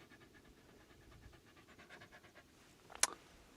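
A large female dog pants heavily and rhythmically right beside the listener outdoors in the bush, a quick, steady huffing that is faint but close, followed by a single sharp scratch or click near the end.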